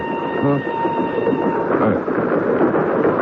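A train runs steadily on rails, a close, continuous rumble with rolling wheel noise and faint high tones, heard without a break.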